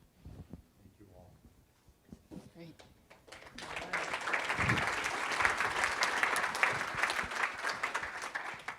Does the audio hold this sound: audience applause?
yes